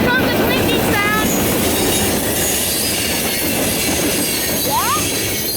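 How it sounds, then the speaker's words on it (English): Freight train cars rolling past in Springfield, Illinois, wheels clinking and squealing sharply on the rails in brief bursts over a steady loud rumble and wind noise, close by. "Here comes the clinking sound."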